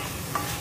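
Spices for a tadka sizzle in hot oil over a strong stove, a soft continuous frying hiss with a brief stir, close by and without talk.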